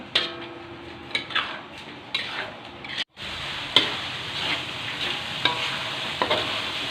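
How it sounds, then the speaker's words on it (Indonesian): Whole spices sautéing in a pan for beef gulai, a steady close frying hiss broken by repeated spoon scrapes and clinks, with a brief silent gap partway through. "Tumis sampai aromanya naik sahabatku ya."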